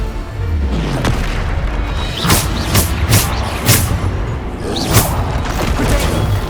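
Repeated booming spell blasts from the Bombarda curse in Hogwarts Legacy, several sharp thuds and bursts over a steady combat rumble, recurring every half second to a second, loud and up close.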